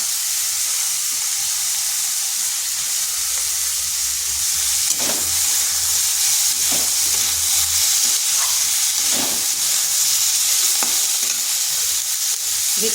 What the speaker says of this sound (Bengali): দিয়ে দিচ্ছি কেটে রাখা আলুগুলো।